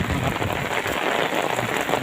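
Heavy afternoon rain pours steadily onto surfaces outdoors, a dense, loud, continuous hiss and patter with no pauses and no voices.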